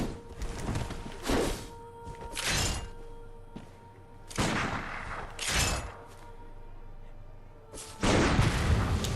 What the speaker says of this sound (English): And it performs like a shotgun blast as well.